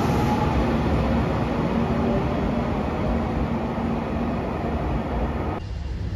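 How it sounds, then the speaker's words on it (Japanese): A white Anpanman-liveried JR Shikoku limited express, Shiokaze 21 and Ishizuchi 21 bound for Matsuyama, rolls through Marugame station with a steady, loud rumble and rattle of wheels on track, cutting off abruptly near the end. "丸亀駅18時13分発白いアンパンマン列車特急潮風21号特急石槌21号松山行き"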